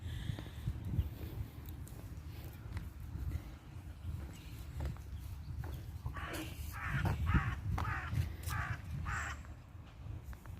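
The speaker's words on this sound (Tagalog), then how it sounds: "yung uwak nandun sa itaas" Crows caw repeatedly in the open air on Isla de La Toja, several harsh calls in a loose cluster, over a low rumble of outdoor background noise.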